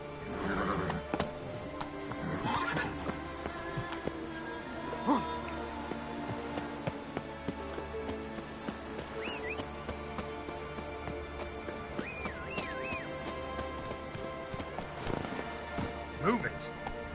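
A horse in The Witcher 3 hoofs along with a steady clip-clop rhythm, amid game ambience and occasional tonal sounds, with a voice talking over parts of it.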